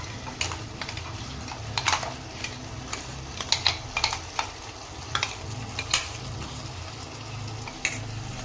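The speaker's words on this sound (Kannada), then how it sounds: "ಈಗ ನಾನು ಮಸಾಲೆ ರುಬ್ಬಿರೋದನ್ನೆಲ್ಲ ಪೂರ್ತಿಯಾಗಿ ಇದರಲ್ಲಿ ಹಾಕ್ತೀನಿ" Ground masala paste for aloo kurma sizzles in a hot pan, a steady crackling fry punctuated by scattered clicks and scrapes of a spoon stirring, close and continuous.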